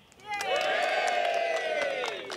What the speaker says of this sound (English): cheer as loud as you can if you think it's won